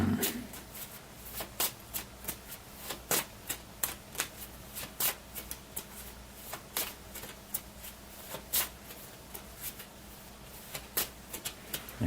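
Cards being shuffled back into a deck, a rapid series of crisp riffling snaps and flicks repeating in uneven bursts, close and clear, with no talking.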